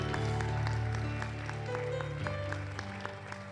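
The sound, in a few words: congregation applauding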